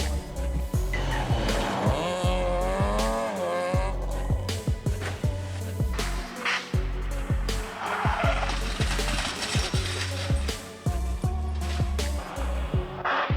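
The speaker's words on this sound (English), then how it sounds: "That is a car crash in a row, rushing into the fence, causing a dangerous accident." Cars squeal and skid with tires screeching and engines revving, followed by sharp impacts as vehicles crash in a row into a fence, loud and close, with a voice talking faintly underneath.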